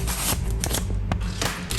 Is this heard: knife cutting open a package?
yes